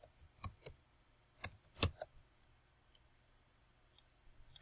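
A computer mouse gives several sharp, close clicks in two quick clusters, then a long quiet stretch with only a couple of faint ticks.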